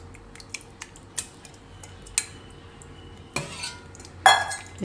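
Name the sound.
stirring beetroot raita with curd and spices in bowl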